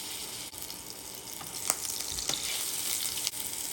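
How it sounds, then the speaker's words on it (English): A small piece of turkey sausage frying in a skillet gives a steady, moderately quiet sizzle with a few crackles and pops, heard up close with no voices. "let me get the skillet over here going. I'm gonna just cook just a small piece just to see how it tastes"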